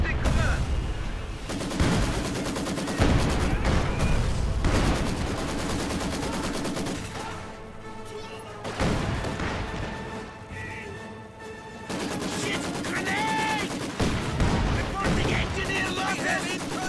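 Dense gunfire barrage in the Company of Heroes 2 strategy game, loud overlapping bursts of rifle and machine-gun fire with booming impacts, sustained almost without pause throughout.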